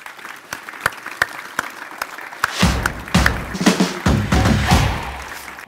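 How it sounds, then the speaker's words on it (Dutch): Audience applause for guests on a Dutch-language talk show: a few sharp, separate claps at first, then a full, dense round of clapping swells from about the third second and keeps going to the end. "mag ik een applaus voor onze gasten"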